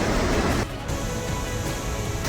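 An Icelandic waterfall roars close by in a loud, steady, unbroken rush of crashing water that briefly thins for a moment before surging back.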